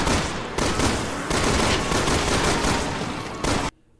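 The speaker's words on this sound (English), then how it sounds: "The sound effects from the guns are, well, generic." Resident Evil 6 gunfire, loud continuous automatic bursts in dense overlapping volleys with brief breaks, cutting off abruptly into near silence at the end.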